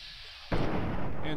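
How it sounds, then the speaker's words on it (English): A sudden loud explosion booms in the video game Fallout 3 after a quiet moment and leaves a sustained roaring rumble afterward, with someone speaking faintly beneath. "Ooh, big explosion."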